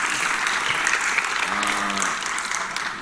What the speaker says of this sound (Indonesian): Ya, tepuk tangan lagi untuk grup A.